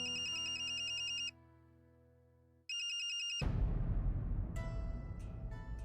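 A mobile phone ringtone plays loudly in two bursts of bright repeating melody, separated by a short pause, then cuts off abruptly and gives way to a noisy background.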